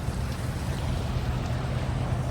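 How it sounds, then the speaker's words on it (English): Melted water runs down by the fuel island at a truck stop, a steady, fairly loud broadband rush over a constant low rumble, continuous and unbroken throughout with no voices. "So you got melted water going down."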